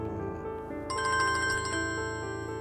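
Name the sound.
mobile phone ringtone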